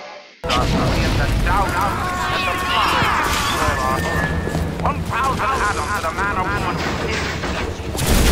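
Incinerate plasmid fire attack in the video game Bioshock: a loud, sustained burst and roar of flames with booming, crackling layers, continuing under game voices and effects throughout.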